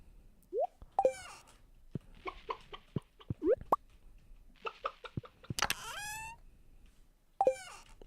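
Chickens clucking on a farm in the video game Stardew Valley, a series of short chirpy clucks and rising squawks scattered over several seconds, with soft plopping pops between them, clear and close against a quiet background.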